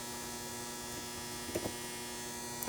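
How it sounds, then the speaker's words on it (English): A clothes dryer buzzing somewhere in the house, a faint steady electric hum with a tonal drone, heard alone with a few small knocks near the end. "Oh, that's a dryer."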